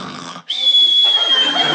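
A boy imitates someone asleep, voicing a rasping, grunting snore and then a long, steady high whistle, close and loud, in a 1961 radio comedy bedroom scene.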